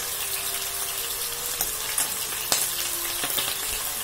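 Chicken and vegetables (onion, bell pepper) sizzle steadily in a frying pan for sweet-and-sour pineapple chicken, a continuous close frying hiss with a few sharper crackles and stirring clatters, no talking.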